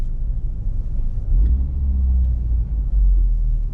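Low, steady engine rumble from a Honda Civic Type R on a test drive, heard from inside the cabin with a slight swell midway and no voices.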